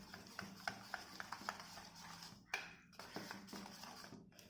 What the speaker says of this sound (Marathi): हे छान मिक्स करूया.